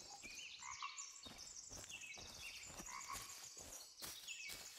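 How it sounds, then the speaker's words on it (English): In the Blair Witch video game, a chorus of frogs croaks repeatedly in short, overlapping calls over a faint outdoor background, with no talk. "Here's some frogs in there in the distance."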